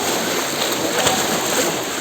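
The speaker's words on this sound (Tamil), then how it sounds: "அங்கே தண்ணி பயங்கர ஸ்பீட் ஆகிட்டு கேட்டிங்களா?" Fast floodwater rushes in a steady, broadband roar during heavy rain, with splashing and sloshing that stays constant throughout.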